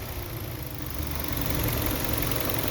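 A Hyundai Veloster engine running at low revs with a noise in the engine bay when pulling away on a slope, a steady close rumbling drone with a faint uneven knock.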